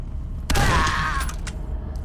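Gunfire from the video game Condemned: Criminal Origins, a loud burst of shots starting about halfway in with a sharp attack and ringing tail, then a few fainter follow-up reports over a steady game background.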